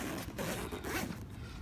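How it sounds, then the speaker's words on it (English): A zipper on a pocket of a Hazard 4 Kato bag is pulled closed in one short, close, scratchy run, with no talk. "We'll zipper it up a little bit just so it doesn't flop around."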